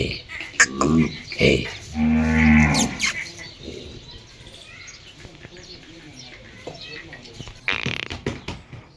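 A cow, calf of a Pushkar bull, lets out loud, close moos in a couple of long calls, with farmyard rustling and brief voices around them.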